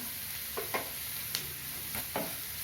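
Onions sautéing with rock salt in a pan for a dhaba-style egg keema masala, heard as a soft steady sizzle with a few faint stirring scrapes, quiet and close with no talk.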